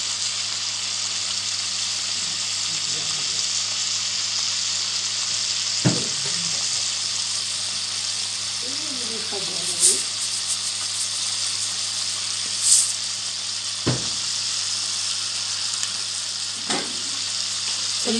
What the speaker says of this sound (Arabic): دابا غادي تخليها تقلى